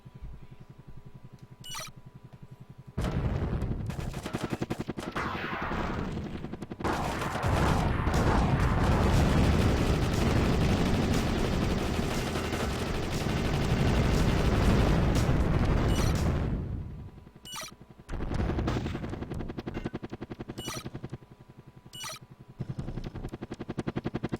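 Helicopter gunfire in the game Soviet Strike, dense rumbling barrages of shots and blasts roaring for about twelve seconds, framed by quieter stretches with scattered single reports.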